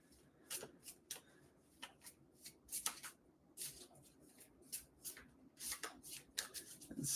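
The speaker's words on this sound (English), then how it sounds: "Give these a shuffle." A deck of playing cards being shuffled by hand, with repeated crisp riffling bursts and soft slaps in an uneven rhythm, close and fairly quiet in a home setting.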